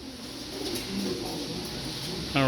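Racing pigeons coo steadily at a club house during loading for a 200-mile race, their soft throaty calls rolling on under background bustle, with a sharper, louder burst near the end.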